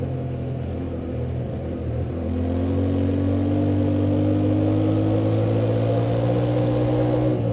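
A Yamaha Tenere 700 motorcycle engine drones steadily under wind rumble while riding, and its pitch climbs gradually as the revs rise.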